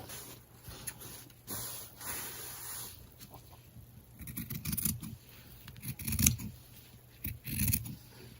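Scissors cut folded fabric for a face mask, giving quiet snipping and rasping strokes in uneven bursts, close up and soft against a faint background hiss.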